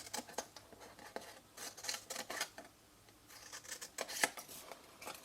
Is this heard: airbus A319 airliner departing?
no